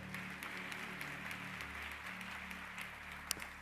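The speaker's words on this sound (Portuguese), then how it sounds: "Você pode aplaudir ao Senhor?" A church congregation applauds the Lord during a worship service: faint, steady clapping that sounds distant and continuous, with a low hum underneath.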